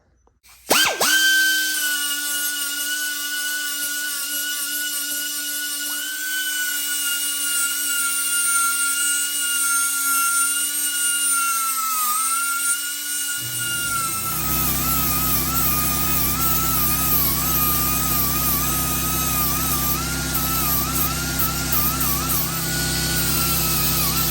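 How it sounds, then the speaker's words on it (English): A high-pitched power tool whines and spins up, its tone shifting as it works, then gives way to a rougher, broadband grinding roar while abrasives finish a welded repair on a broken Harley chopper kick start cover. "So I'm gonna finish this off with some abrasives and clean it up"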